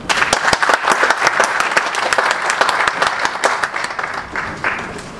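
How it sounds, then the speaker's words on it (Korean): A crowd claps steadily for a few seconds, a dense, lively burst of applause heard up close. "대표님 박수 한번."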